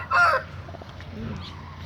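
A short call from fighting cocks rings out near the start, followed by faint clucking and murmuring amid low background noise.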